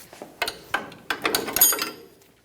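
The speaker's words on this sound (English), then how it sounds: "19mm, we're going to remove the nut for the strut." Ratchet wrench loosening a 19mm strut nut on the front shock of a 2005-2010 Toyota Tacoma: a quick series of about five or six sharp clicking ratchet strokes, close and dry, then fading out.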